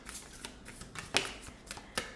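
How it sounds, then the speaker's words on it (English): A deck of oracle cards is shuffled in quick riffling bursts, soft papery flutters with a couple of sharper snaps, close and alone without talk. "let's just shuffle again"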